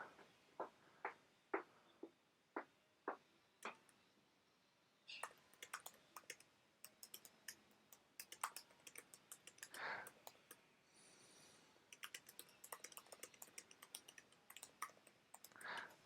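Someone types text on a computer keyboard in quiet, close bursts: a few spaced keystrokes first, then denser runs of soft clicks with brief pauses.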